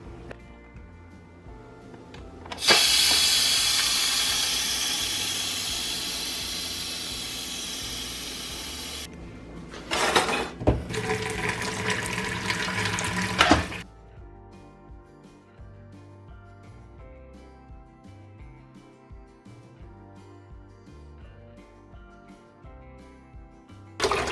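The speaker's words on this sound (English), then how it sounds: "Now this water is straight from the well," Cold well water gushes in a steady hissing stream, pauses briefly, runs again, then stops, leaving faint background music.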